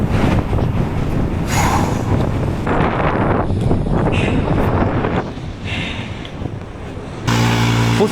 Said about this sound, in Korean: 와, 바람 진짜 세.